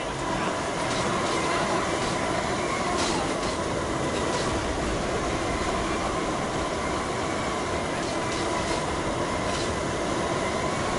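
Train in the Skyrim video game, a continuous loud rumble of rolling wagons with faint rhythmic clatter, steady for the full stretch.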